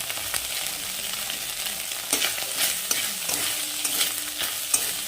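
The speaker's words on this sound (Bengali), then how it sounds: "তারপরে দিয়ে দেবো বন্ধুরা তেজপাতাটা" Bay leaf dropped into hot oil in a pan while cooking moong dal, giving a steady sizzle with scattered stirring clicks and scrapes, close and moderately loud.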